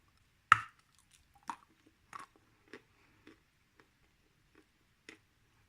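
Close, quiet chewing of Bashkir clay, a crisp first bite followed by about eight soft, irregular crunching chews that fade over several seconds in a silent room.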